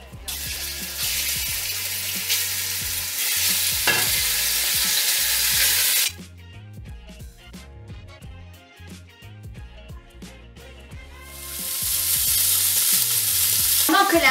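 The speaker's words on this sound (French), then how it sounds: "on va commencer par jeter la viande dans la cocotte" Beef hits a hot cocotte for Flemish carbonade with loud, dense sizzling, then quieter clatter and stirring, and the searing hiss swells up again near the end.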